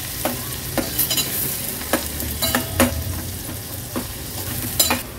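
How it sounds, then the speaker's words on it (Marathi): Onion frying and being stirred in a pan with crushed green chilli and garlic for a Maharashtrian Agri-Koli style veg thali: steady low sizzle with repeated sharp spatula scrapes and clinks, close and alone without talk. "आता व्यवस्थित आपल्याला हा कांदा शिजवून घ्यायचा आहे।"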